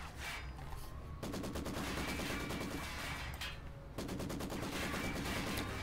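Rapid bursts of crew-served machine-gun fire from Company of Heroes 2, dense and continuous with short gaps, loud battle din with no voices.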